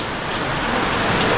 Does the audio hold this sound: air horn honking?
no